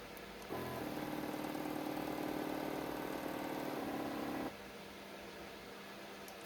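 The motor of a spin indexer runs with a steady mid-pitched hum for about four seconds and then cuts off, leaving a quieter background.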